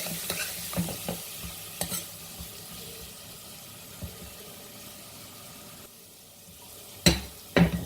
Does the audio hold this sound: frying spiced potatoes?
yes